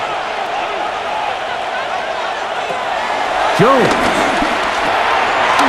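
A stadium crowd in an NFL football game between the Indianapolis Colts and Minnesota Vikings roars and cheers on third down, a broad steady swell that grows louder, heard under a play-by-play commentator's voice.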